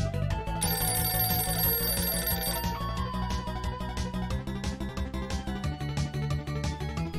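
Telephone ringing in a video game, a bright repeating ring sounding over a loud, dense bed of game music and effects, with no talking.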